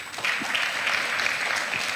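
A church congregation at a Sunday worship service breaks into applause, a dense, even wash of many hands clapping at once, sustained and fairly loud in the hall.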